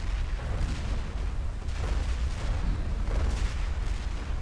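Cannon fire from a naval battle video game during a harbor raid on a trade ship, a dense continuous rumble of booming shots with repeated louder bursts across the whole stretch, no talking.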